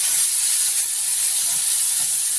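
Brinjal and tomato with salt sauté for chutney in a hot pan, giving a loud, steady, close sizzling hiss that holds without a break and with no talking.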